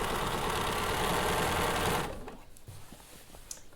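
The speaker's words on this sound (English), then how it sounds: "So just go ahead and start to stitch." A sewing machine top-stitching the hem of jeans runs in a steady, fast whir for about two seconds, then stops, leaving faint handling noises.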